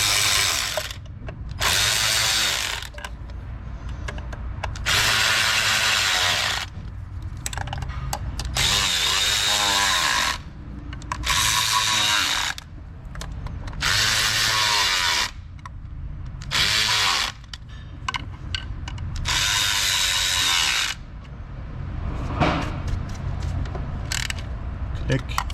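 Engine bolts being tightened with a torque wrench, bursts of ratcheting in repeated passes with short pauses between, close and loud, with no talking.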